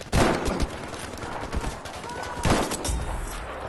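Gunfire in the video game Battlefield 5, a few sharp pistol shots cracking amid game noise, with bursts near the start and again midway.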